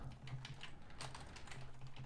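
Rapid typing on a computer keyboard, a dense run of close, crisp key clicks with an uneven rhythm and no talking.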